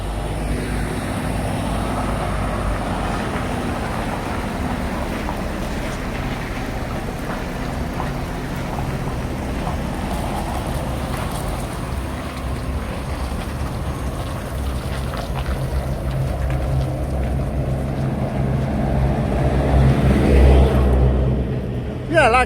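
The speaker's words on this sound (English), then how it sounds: "Got a vehicle coming in with some crane parts on." A truck loaded with crane parts arrives at a Sheffield site, its low engine rumble steady throughout and swelling nearer toward the end, with wind noise across the microphone.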